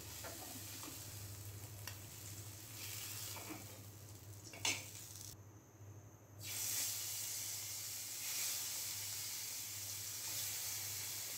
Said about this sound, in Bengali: তো বাটা মাছগুলো আগে ভেজে নিচ্ছি।